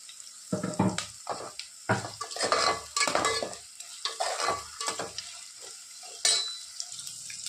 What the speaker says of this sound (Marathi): कढीपत्ता, त्यात टाकत आहे मी मिरच्या चिरून घेतले।